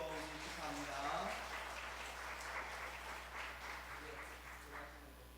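A church congregation applauding during a Sunday morning service after an infant baptism: a steady patter of many hands clapping throughout, moderately distant in a reverberant hall.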